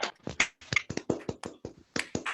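Scattered applause from a small group on a video call, uneven claps and taps close to the microphone, lasting a couple of seconds.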